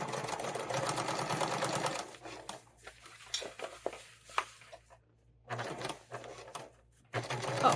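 A sewing machine stitches a fabric tool storage roll in steady bursts, a dense run at first and then short intermittent runs with pauses between them, close and moderately loud.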